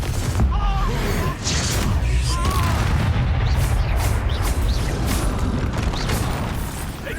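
Spell explosions from the Expulso and Confringo curses in the video game Hogwarts Legacy, a dense run of loud booming blasts and crashes over continuous rumbling battle noise, with game voices shouting between them.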